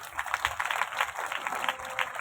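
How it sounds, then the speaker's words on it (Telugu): A congregation applauds at a Marian shrine festival service, a steady patter of hand claps in a large, echoing gathering, fairly soft and distant throughout. "గట్టిగా చప్పట్లు కొట్టండి."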